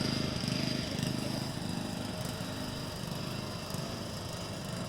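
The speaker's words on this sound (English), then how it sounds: "here come the tractors" Several tractors of all sizes rolling past along a Christmas parade route, a steady mix of small engine drone and rattling idle, fairly close and continuous throughout, with faint crowd murmur underneath.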